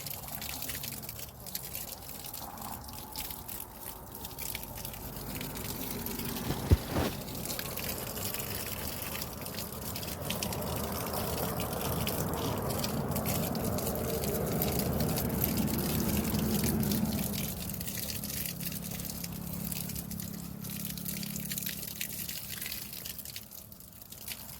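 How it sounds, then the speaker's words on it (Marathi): Water poured onto garden plants, a steady soft gush and trickle running for a long stretch, swelling in the middle and easing off, with faint dripping and one sharp knock early on. "असं आपल्याला झाडांना पाणी घालायचं आहे"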